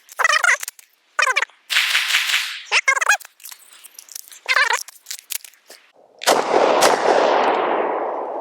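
Lone Wolf Arms TimberWolf 19 pistol fired at a range, finishing a magazine: several sharp, loud shots in an irregular series, followed by a longer broadband blast that trails off.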